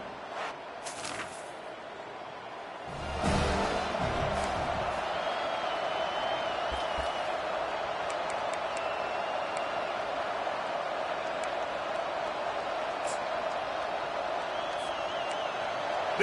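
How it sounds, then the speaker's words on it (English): A stadium crowd at a college football game, Tennessee Volunteers against an SEC opponent, keeps up a loud, steady roar of cheering with a sudden surge partway through, while a commentator talks over it. "This crowd bringing the energy and noise early"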